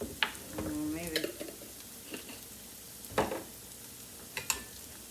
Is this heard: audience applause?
no